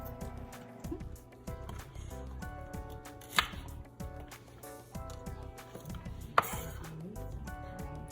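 A knife chopping scallion on a cutting board, a quick steady series of sharp taps with a few louder knocks, close and moderately quiet against light kitchen background.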